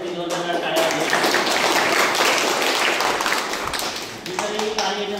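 Loud, continuous applause from a school audience at a Diwali donation gathering, a dense wash of clapping that holds steady for several seconds and dips briefly near the end, with voices mixed in beneath it.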